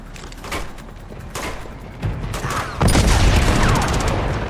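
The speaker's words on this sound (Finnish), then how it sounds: "Ammutaan vaikka pistoolilla tää no matter what." Pistol gunfire in the video game Uncharted 2: Among Thieves, a series of sharp shots and impacts growing louder and denser toward the end, with no talk over it.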